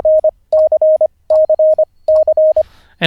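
Morse code letter C keyed as a steady mid-pitched tone, dah-dit-dah-dit, sent four times in a row with clean on-off rhythm, close and clear with no talking.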